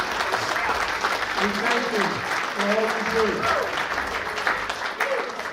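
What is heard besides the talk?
audience applause for the sports writers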